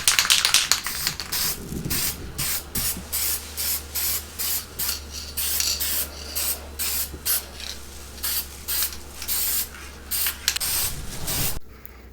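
Spray can laying light coats of gray primer on a Pontiac V8 engine block, loud close hissing bursts in a regular rhythm of short pulses, then stopping abruptly.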